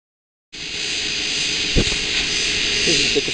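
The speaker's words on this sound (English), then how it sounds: "This is the compressor unit." An outdoor air conditioner compressor unit runs with a loud, steady broadband hum that starts abruptly, with a few faint knocks and clicks over it.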